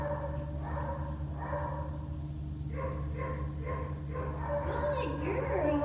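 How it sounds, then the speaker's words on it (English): Dogs barking and yipping in the background, several quick barks in bursts, with a low steady hum and a voice speaking nearby. "you can hear there's barking going on in the background"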